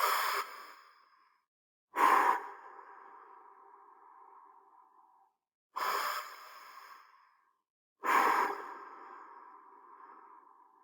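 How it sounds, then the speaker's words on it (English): Slow paced breaths during a calming breathing exercise: four long airy breaths, each starting with a sharp intake and trailing off, separated by short silences, close and alone. "We're going to breathe in for 2 and out for 4."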